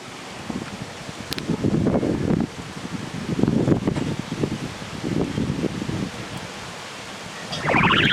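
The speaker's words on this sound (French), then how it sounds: "il y a vraiment beaucoup de vent en fait" Strong wind from an approaching thunderstorm gusts and roars in repeated surges, rushing broadband noise that swells and fades in waves, with no speech.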